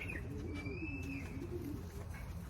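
Racing pigeon in a one-loft race entry, a soft low cooing murmur, faint and close, lasting a couple of seconds with a brief high tonal sound above it.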